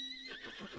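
A horse in the video game Red Dead Redemption 2 lets out a single short whinny, rising then quavering down over under a second, close and clear with no talk.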